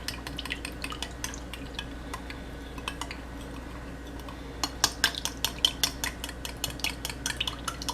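A homemade hand sanitizer mixture with a few drops of lemon essential oil being whisked in a bowl, giving a run of light clinking and tapping strokes that grows into quicker, sharper clicks near the end.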